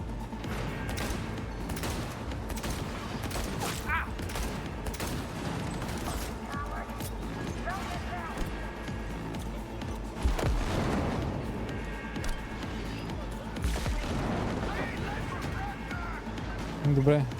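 Gunfire bursts and heavy booms from a fight in the video game Cyberpunk 2077 run through a long stretch of combat, with someone talking over the action throughout.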